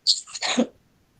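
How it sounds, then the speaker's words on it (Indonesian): A woman gives a single short, harsh cough burst, close and fairly quiet, fading quickly into silence. "Aduh saya batuk Pak."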